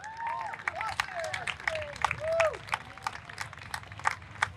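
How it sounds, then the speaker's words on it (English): Audience at a Juneteenth celebration claps for a speaker coming on stage, scattered distinct claps mixed with crowd noise, while a voice with rising and falling pitch carries over the top. "Let's give a hand clap for Austin as he comes up"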